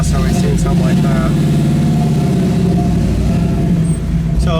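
A warmed-up 1967 Camaro Yenko with a 427 solid-lifter engine runs at a steady, loud idle with a low, lumpy rumble throughout, while people talk over it.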